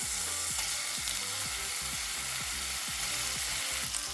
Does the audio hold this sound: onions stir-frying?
yes